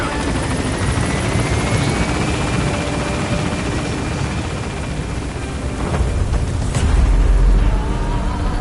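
A helicopter in Metal Gear Solid V gains altitude, its rotor chopping loudly and steadily throughout, with a deep boom swelling low near the end.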